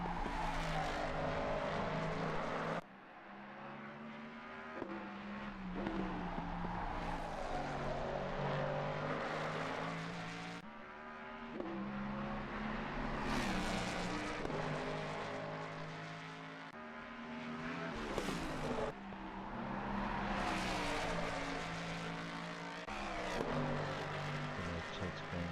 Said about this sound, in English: That car just sounds incredible, riding the curbs extremely hard